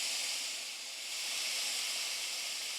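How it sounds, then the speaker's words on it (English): Ground beef for sloppy joes sizzles in a pan, a soft, continuous hiss at low volume with no talking over it. "So I'm just moving the meat around in the pan"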